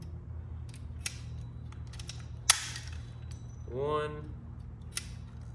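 Rivets go through the DBA Lighting wheel light rings as they're fastened together, giving a few sharp metallic clicks and snaps amid low background hum, with a brief voice nearby.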